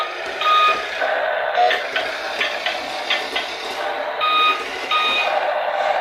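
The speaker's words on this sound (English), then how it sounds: "As you turn the wheel, when you're going forward, you get a blinking sound and the headlight blinks" A toy remote control bus sounds its turn signal while steering, giving repeated electronic beeps with a steady pulsing pattern that stop and restart. The beeps are loud, close and heard alone.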